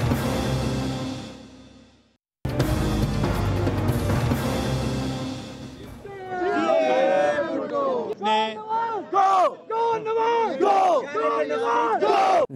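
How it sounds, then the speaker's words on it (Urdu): Crowd at a political sit-in rally chanting slogans in unison, loud rhythmic shouted phrases repeating in bursts, with a roaring crowd wash before the chant takes shape. "یہ آپ نے نعرے سنے ہیں"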